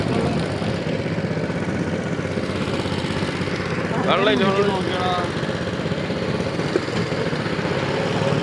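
A motorboat engine drones steadily on a backwater at moderate volume, with a brief burst of voices partway through.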